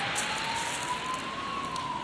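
An emergency vehicle siren sounds faint and distant, a single steady wailing tone holding over a soft background hiss.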